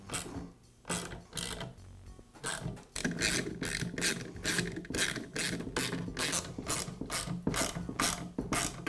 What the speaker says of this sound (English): Now tip this entire assembly up and secure the motor with the screws.